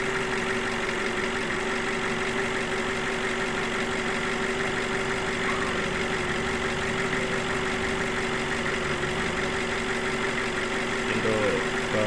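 A 2.0-litre Nissan X-Trail T30 engine idles steadily and evenly at close range, a continuous low hum with no variation, while the radiator fan is wired to run directly with the ignition on.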